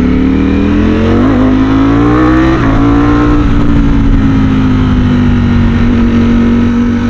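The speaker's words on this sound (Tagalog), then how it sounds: "Tapos gantong kalakas yung motor, yung pagpiga mo ando na agad." A Ducati Streetfighter V4S motorcycle engine roars at high revs right up close, the pitch climbing and easing as the throttle is worked, loud and continuous with no talk.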